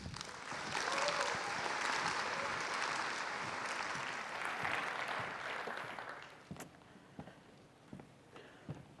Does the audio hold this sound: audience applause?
yes